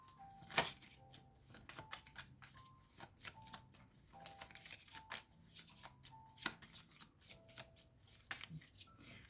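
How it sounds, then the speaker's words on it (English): Deck of oracle cards being shuffled by hand in a quiet room, a soft run of riffling, sliding and tapping with several sharper snaps along the way, close and faint, no talking. "I'm gonna stop shuffling because there are no cards that want to come out"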